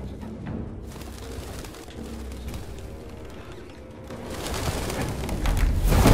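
Pigeons coo in a scene from the video game Detroit: Become Human over a low, steady ambient rumble, and a burst of wing flaps and louder bird noise builds toward the end.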